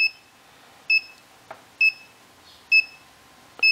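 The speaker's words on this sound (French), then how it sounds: "le buzzer sur le même rythme sonner plus ou moins rapidement" An Arduino electronic buzzer beeps in short, high, evenly spaced tones, about one per second, with faint clicks between them.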